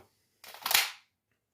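A single sharp dry-fire click from a Canik TP9 pistol as the striker drops on an empty chamber, close and isolated in near silence.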